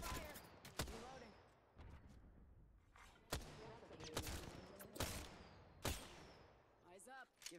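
Gunfire crackles through an Apex Legends battle royale match, several sharp bursts and single shots at irregular intervals, some close and loud, others farther off, with short game voice lines and a weapon reload heard between them.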